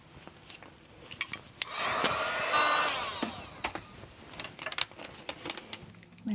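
A heat gun blows hot air for about a second while embossing a handmade craft gift, a steady whooshing hum that rises and stops, surrounded by quiet handling clicks and taps.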